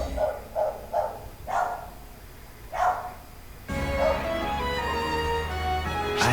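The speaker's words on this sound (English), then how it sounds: "dogs barking" Dogs bark in a short series of distant, moderately loud yaps, about five spaced barks, after which a steadier background tone takes over with further barking faint beneath it.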